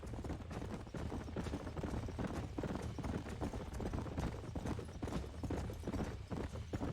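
Horse hooves clip-clop in a steady, even trot, loud and close, in the Western video game Red Dead Redemption, continuing without a break and with no voices over them.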